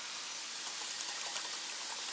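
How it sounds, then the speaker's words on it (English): Hot water poured into a beaten egg to temper it for a Singapore-style noodle sauce with chicken and shrimp, a steady close trickling pour lasting the whole moment with no talk. "I'm gonna put some hot water with this egg to temper it."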